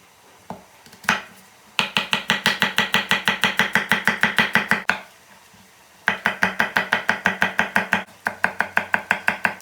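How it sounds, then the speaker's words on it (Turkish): Garlic being chopped with a knife on a board, rapid rhythmic close-up chopping in several bursts separated by short pauses, with no talking. "Bir işte sarımsak doğruyorum."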